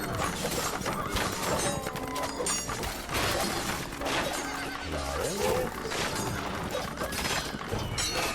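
Horses neigh and whinny repeatedly in a historical strategy game battle, amid a dense, loud mix of combat clatter, mechanical ratcheting and hoof clip-clop, with no talking.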